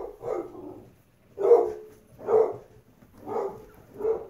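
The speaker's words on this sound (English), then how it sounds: "UPS guy, that's why my dog is barking" A dog barks at a UPS delivery driver, five deep barks in a slow, even rhythm, close and fairly loud with nothing else heard.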